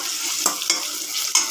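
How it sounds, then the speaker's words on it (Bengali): Onions frying in hot oil for an eggplant and potato fish curry, a steady close sizzle broken by a few sharp scrapes and knocks of a spatula stirring the pan. "প্রথমে তেল দিলাম, পেঁয়াজ দিলাম, এখন একটু ভাজা ভাজা করতেছি, কষাই"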